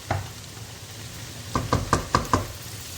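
Tomato paste cooks in melted butter in a pan with a low, steady sizzle, as a utensil knocks against the pan once near the start and then in a quick run of four or five taps.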